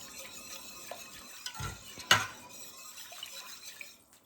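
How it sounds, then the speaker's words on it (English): Soup stirred in a pot as it heats toward a boil, with soft scraping and a few clinks of a utensil against the pot, including one sharper knock near the middle, fairly quiet throughout. "we're stirring this till it comes to a boil."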